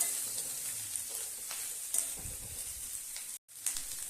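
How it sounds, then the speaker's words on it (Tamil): Bitter gourd sautés in a pan, giving a steady soft sizzle with faint stirring scrapes and a brief drop-out near the end; nobody speaks. "அதனால் இதை நம்ம வதக்கி எடுத்துடலாம்."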